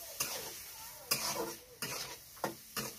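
Onion sautéing with salt in a pan, heard as a few distinct scraping stirs roughly every half second to second over a quiet, faint sizzle.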